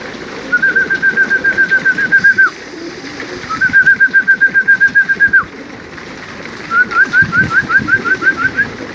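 Racing homing pigeons coo from inside a car as they are fed, with three rolling coo phrases a few seconds apart, close and clear over a low background rumble.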